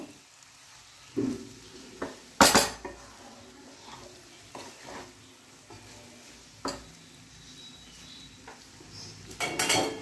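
Metal clatter of a lid set onto a wok full of cooked pasta, with a few scattered clinks and one loud crash partway through, then more knocks at the end over a quiet sizzle.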